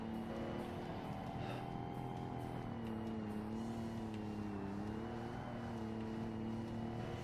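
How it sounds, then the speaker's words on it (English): A Holden Monaro GTO engine from Forza Motorsport drones steadily at fairly constant revs, with a few small pitch dips as the car drives on. It stays loud and continuous throughout, with no one talking. "That's an interesting sounding engine. I don't remember whenever I drove the GTO sounding like that."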